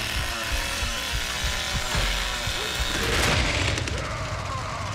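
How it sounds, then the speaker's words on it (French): A chainsaw revs up in The Texas Chain Saw Massacre video game, a loud continuous buzzing drone over a busy game mix with thuds and crashes, a voice faint underneath. "je peux démarrer ma tronçonneuse directement"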